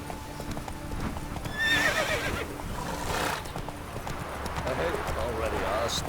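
Roach, a horse in The Witcher 3, gallops with loud, rapid clip-clopping hooves and lets out a clear whinny early on, while a voice speaks over the action.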